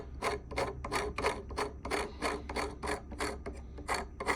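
A 3D-printed knurled barrel screw being turned onto a bullpup rifle build, a steady run of about a dozen rhythmic raspy plastic scrapes, close and quiet with no talk.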